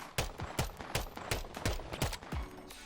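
A Glock 19X pistol, called the Core 45, fires in the VR shooter Bonelab: about eight sharp, loud shots in a quick, steady rhythm, close up and with no voices over them.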